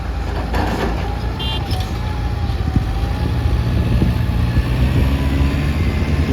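Ten-wheel dump truck climbing out of a 15 m deep pit dug for a starch factory's wastewater treatment pond, a steady, loud diesel engine drone under constant outdoor rumble.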